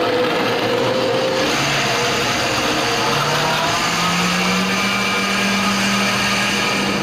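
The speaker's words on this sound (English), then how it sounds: "I'm literally going to let the blender do all the work for me" A KitchenAid blender blending carrot ginger soup runs continuously at a loud, steady whir, its motor pitch shifting slightly as it churns.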